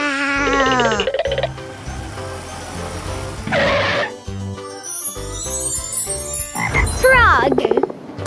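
An old-style cartoon frog gives a few loud, bouncy croaks with springy rising and falling tones, mixed with tinkling effects and bright sound-effect flourishes in between.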